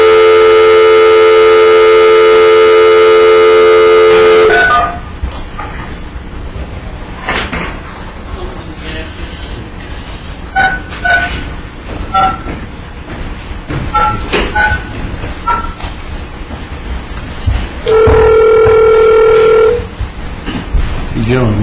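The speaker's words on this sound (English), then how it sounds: "And we're supposed to get Mr. Mulvaney on the phone." A telephone call being placed in a courtroom: long steady dial and ringing tones open the clip, then a quieter stretch of clicks and handling, then another tone burst near the end.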